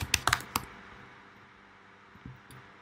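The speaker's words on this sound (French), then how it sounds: "je tape logement" A computer keyboard is typed on in a quick burst of four or five crisp, close clicks at the start, then a low hum and a couple of faint taps near the end.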